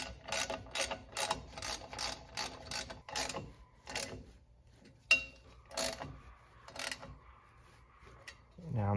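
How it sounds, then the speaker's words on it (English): Bolts and a brake line being threaded into a new Mopar wheel cylinder on a Plymouth Gran Fury, heard as quick runs of ratchet-like clicks in bursts, close but fairly quiet, with scattered metal taps in between. "Now I'm threading the brake line in."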